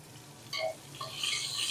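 Ingredients for tomato rice being stirred in a pressure cooker: a few brief soft scrapes and shuffles of a spoon against the metal pot, close and quiet, with a faint sizzle rising toward the end.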